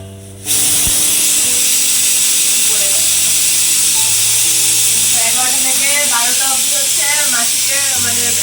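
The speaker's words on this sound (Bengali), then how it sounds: "এখন আমি প্রেশার কুকারে চিকেন স্যুপ বসিয়ে দিয়েছি" Loud, steady hiss of steam escaping a pressure cooker of chicken soup fills the whole clip after a brief quiet start, with faint voices and clatter underneath.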